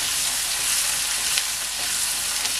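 Garlic, shallots and curry leaves fry steadily in hot oil for a home-style garlic gravy, giving a dense, continuous sizzle with small crackles throughout and no voices.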